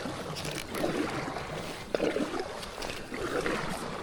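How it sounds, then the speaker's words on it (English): A NuCanoe Unlimited kayak is paddled up a shallow river, with soft, splashy paddle strokes of water coming about once a second, close and moderately quiet. "paddling pretty well so far"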